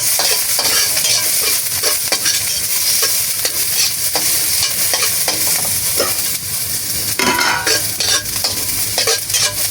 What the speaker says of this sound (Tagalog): Ginisa ko na po yung bawang at saka sibuyas.